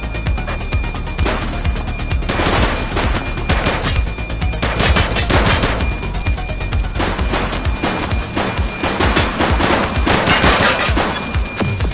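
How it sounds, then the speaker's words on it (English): Gunshots crack loudly and rapidly in a shootout, with bursts of repeated fire and heavy volleys running almost without pause throughout. "Suspect is down. Shots fired!"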